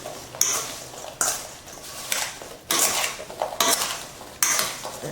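A mixing spoon stirs sliced apples with cinnamon, sugar and cloves in a glass mason jar, producing repeated bright scraping clinks in bursts about a second apart, close and loud, no voices.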